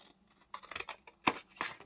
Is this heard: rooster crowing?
no